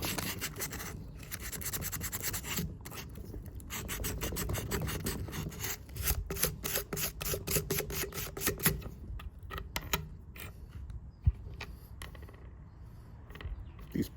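Small rusty Felco pruning shear parts being scrubbed, close rhythmic scratchy brushing strokes in bursts, with brief pauses and a few sharp knocks, no talking.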